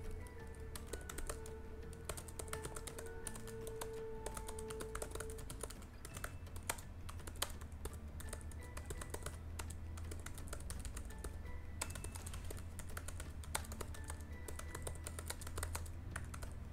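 Steady typing on a computer keyboard, with quick, fairly soft key clicks in an irregular stream over a low constant hum, and no one talking throughout.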